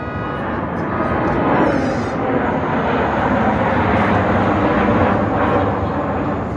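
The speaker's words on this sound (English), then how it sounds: "you guys saw that Delta Airlines just ripped by that apartment. It literally looked like the plane was going to hit the building." A Delta Airlines passenger jet passes low overhead above apartment buildings in Flushing, Queens, a loud continuous engine roar that fills the whole stretch.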